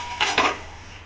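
A lid set down over a pan of spring onion and moong dal sabji as it cooks, giving two quick metallic clinks close by, each with a short ringing tail, and no talk.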